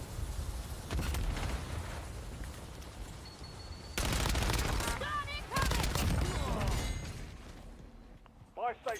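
Gunfire in the Warzone video game comes in bursts of rapid shots mixed with booms and bangs, with game announcer lines and a player talking between and over the shooting.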